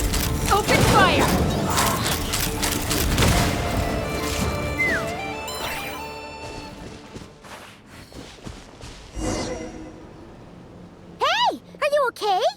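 Gunfire and crashing impacts in Genshin Impact, a loud burst of shots and smashes early on, then scattered thuds and game effects, with voices talking amid the action.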